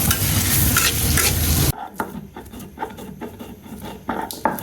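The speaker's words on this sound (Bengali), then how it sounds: "এখন পেঁয়াজ দিয়ে দিলাম আর সামান্য তেল দিয়ে দিলাম" Onions and a little oil going into a pan to fry a spiced tempering of cumin and cardamom, a loud stirring scrape first, then quieter crackling sizzle with scattered taps and clatters of a spoon against the pan.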